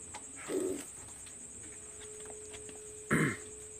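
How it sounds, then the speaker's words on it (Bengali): Two separate soft, throaty coos from a Saki generation pigeon, one early and one near the end, each brief and close, with quiet steady hiss in between. "এটা হলো সাকি জেনারেশনের কবুতর।"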